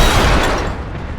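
A frag grenade explodes in the battle-royale shooter Apex Legends, a loud, close, broadband boom that rolls on as a dense rumbling blast for over a second before easing off slightly.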